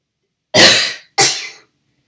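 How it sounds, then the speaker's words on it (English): Two hard, forceful coughs after a breath stacking exercise, each an abrupt loud burst that fades, separated by a brief gap in an otherwise silent room. "instead of blowing it out, I want you to produce a really hard cough"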